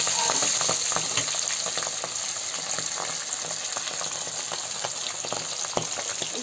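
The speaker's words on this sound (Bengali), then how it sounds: "বাকি মাছ কটা ভেজে নেবো।" Pieces of rohu fish fry in hot oil in a pan, giving a steady, dense crackling sizzle with scattered pops, close and fairly loud throughout, with no talking.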